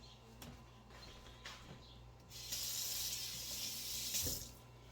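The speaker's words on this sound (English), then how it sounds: "Get a little bit more water on here because this thing is still hot." Water splashing onto a hot stove top fouled by mushroom canning spillover, a broadband hiss that swells midway and holds steady, fairly close, with light clatter before it and no talk.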